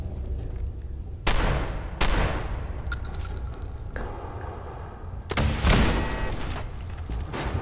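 Automated turret fire in Fallout 4, loud rapid bursts of gunfire with sharp onsets that repeat and decay, the heaviest volley near the end.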